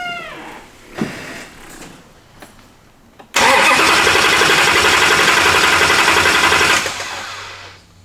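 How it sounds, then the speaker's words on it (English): The Hellcat-swapped engine of a 1972 Dodge Demon cranks on its starter without firing, a loud, steady whirring grind of a few seconds that follows some quieter clicks and shuffling. "Can you crank it without it starting? And just crank it for a second?"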